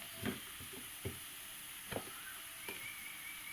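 Ground cumin, ginger, dried chilli and garlic paste frying with browned onions in a pan, a faint steady sizzle broken by a few soft stirring scrapes and clinks, with no talking.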